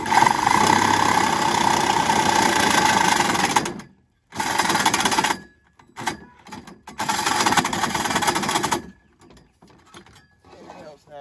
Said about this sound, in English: Then I'm gonna take my sawzall. I'm just gonna cut it off.